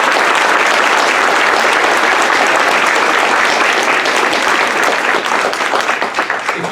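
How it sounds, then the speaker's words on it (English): Loud, continuous applause from the audience at a police honors ceremony, many hands clapping evenly and thinning slightly toward the end. "I want to give you a round of applause"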